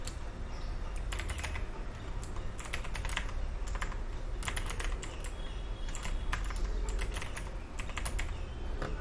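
Code is typed steadily on a computer keyboard, with dense, close, clattering keystrokes arriving in quick bursts and brief pauses, heard alone without any talking.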